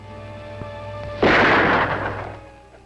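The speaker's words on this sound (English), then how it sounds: "Why do you shoot at me?" A single sharp gunshot rings out after a low steady hum, its loud crack decaying into a long echoing rumble over the next second and a half, with no talking.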